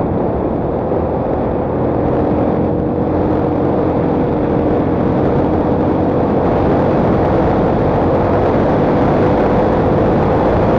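A 150cc GY6 scooter engine running steadily up close with a new carburetor, a loud buzzing drone with a rough exhaust rasp and a faint rising whine, no talking.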